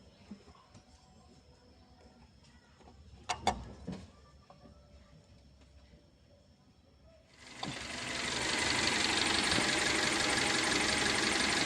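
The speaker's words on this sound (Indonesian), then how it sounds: "ini mesin setelah hidup beberapa saat ya" A few clicks and clunks, then an engine starts running, settling into a steady, close idle hum with a ticking mechanical texture.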